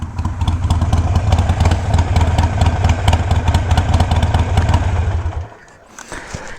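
A Harley-Davidson Iron motorcycle engine idles loud and close with a lumpy, throbbing rhythm, then is switched off and falls quiet in its last second, leaving faint clicks.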